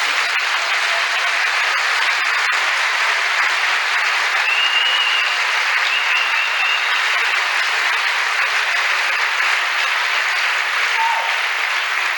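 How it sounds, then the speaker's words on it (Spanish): A church congregation applauds in sustained, dense clapping that fills the whole stretch at an even loudness, with no pause or build. "Le damos un aplauso."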